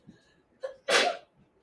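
A single sharp sneeze, close and sudden, preceded by a quick intake of breath.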